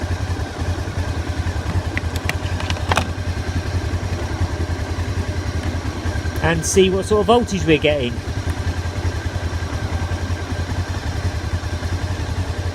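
A motorcycle engine idles steadily with a low, even rumble during a battery charging test while someone speaks briefly over it, accompanied by a few light clicks and handling clatter.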